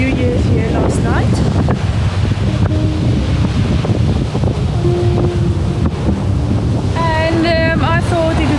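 Steady waves and surf wash onto a Brazilian beach, and heavy wind buffets the microphone throughout. A few faint chirps or voices come through near the end.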